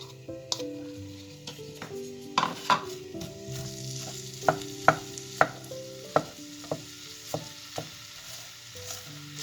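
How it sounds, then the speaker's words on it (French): Red onion frying in hot oil for a chicken curry with peppers and coconut milk. A soft, steady sizzle with sharp utensil taps and stirring clicks in an irregular rhythm, under gentle background music. "je vais y faire revenir mes poivrons, mes oignons. Alors je commence par l'oignon rouge."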